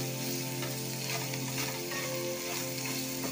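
Green chillies roast in a pan over a medium gas flame with a steady, close sizzle and frying crackle and occasional stirring scrapes, with no voices.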